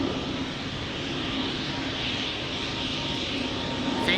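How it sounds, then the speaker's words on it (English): Embraer 190 airliner departing Amsterdam Schiphol for Bremen, its engines holding a steady, loud broadband roar close by with no break or fade. "The Radler, 18 years old, first flight somewhere in 2006, Embraer 190 long range, let's go!"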